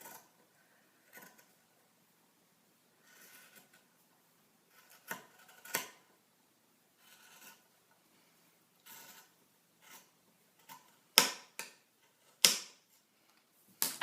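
A shirt is cut with scissors along a chalk line, giving sparse, separate snips with quiet gaps between them and several sharper, louder cuts near the end, close and with no voices.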